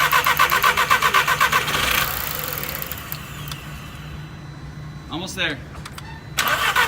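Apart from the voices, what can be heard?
VW GTI engine cranking and starting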